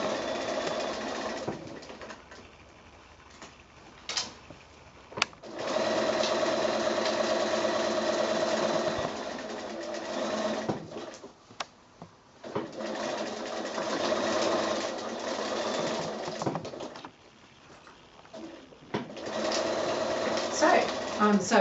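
A sewing machine stitches binding onto a quilted project bag, running in several bursts of steady mechanical whirring with short pauses between them, while someone talks over it.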